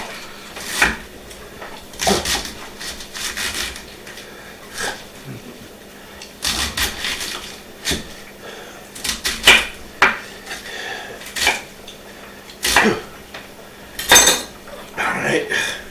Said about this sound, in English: let's cut our cabbage up.